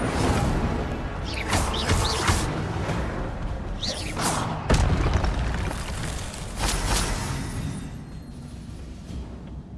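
Fiery magical bursts from the Incendio spell in Hogwarts Legacy, a steady roar of flame with repeated whooshing flares and heavy thuds, loud and close, with game sound filling the background.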